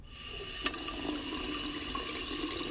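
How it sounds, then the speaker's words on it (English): Water runs steadily from a newly fitted basin tap into a sink with a clicker waste, a close, constant gushing splash with no pauses. "Run some water through for a few minutes."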